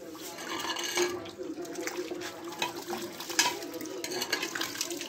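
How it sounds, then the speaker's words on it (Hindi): Clothes being washed by hand in water, with continuous splashing, sloshing and wringing sounds at moderate, steady level throughout, with occasional louder splashes. "कपड़ा धो रहा है"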